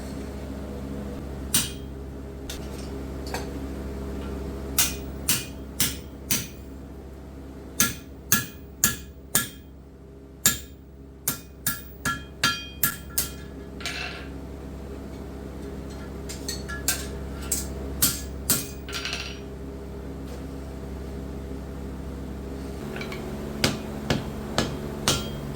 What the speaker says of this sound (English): Now forging the ball on the end of this bit.